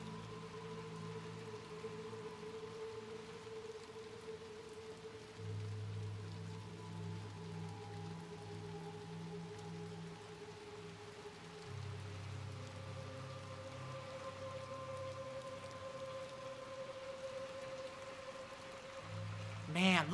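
Steady hiss of rain falls throughout in the video game Little Nightmares II, with low droning tones and background hum underneath, ending in a brief louder burst.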